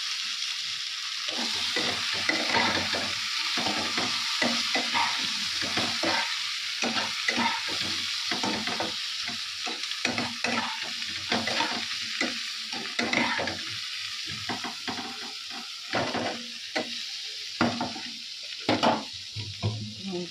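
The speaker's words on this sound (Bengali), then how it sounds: "কড়াইতে আমি মশলাটা দিয়ে দিয়েছি।" Spices fry in a kadai wok while a utensil stirs them, making a continuous sizzle broken by rhythmic scraping strokes, close up and without talk.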